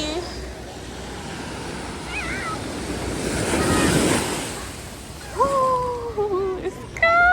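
Ocean surf rolls onto a Hawaii beach in a steady wash with a swelling surge midway, under heavy wind buffeting on the microphone, with a few faint high cries near the end.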